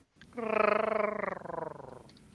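A human voice imitates a Wookiee from Star Wars, producing one sustained, throaty, growling roar that wavers and softens into a purring rumble near its end, heard alone.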